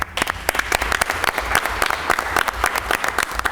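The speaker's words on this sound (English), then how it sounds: "Let's give them a round of applause." Loud, dense applause from the audience at a school board meeting, with many sharp individual claps in a sustained burst and no talking.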